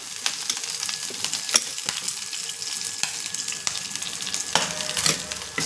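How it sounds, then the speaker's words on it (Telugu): Green chillies, ginger and curry leaves sizzle and crackle in hot oil as tempering, with occasional sharp clinks of a spoon stirring the pan. "పచ్చిమిర్చి తాలింపు వేగింది కదా"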